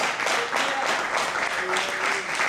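A church congregation applauds in worship at a talk for singles, with dense, continuous clapping and a faint murmur of voices and cheering beneath it, steady and fairly loud throughout.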